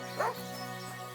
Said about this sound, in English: You better call back that dog.